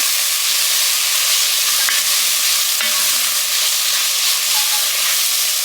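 Tomato paste being stirred into sizzling chili in a pot for Texas chili, a steady loud frying hiss with faint scraping of the spoon throughout, no talking.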